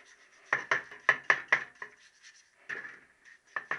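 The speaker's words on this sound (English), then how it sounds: "And I'll give it a clean up and a wire brush." A wire brush scrubs a rear brake part in a series of short, sharp, raspy strokes, close up and uneven in rhythm, with brief pauses between bursts.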